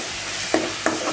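Onion, tomato and chili powder being stirred in a hot pan, with a soft steady sizzle and two brief scraping strokes of the spoon, close and without talk.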